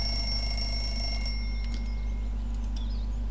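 Alarm clock ringing in the visual novel Everlasting Summer, a bright sustained electronic ring that fills the first second and a half, then cuts off, leaving a low steady hum with faint scattered clicks.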